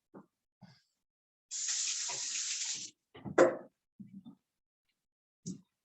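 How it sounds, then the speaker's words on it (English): A kitchen tap runs for about a second and a half while hands are washed during taco preparation, then shuts off, followed by a few brief knocks and clatters at the sink. "Wash my hands."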